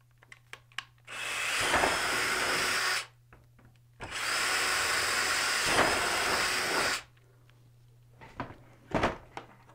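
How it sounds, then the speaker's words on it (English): A power drill drills holes in two sustained bursts of a few seconds each while building a pulk sled, with handling clicks and knocks in between and a low hum beneath. "we drill our other 2 holes."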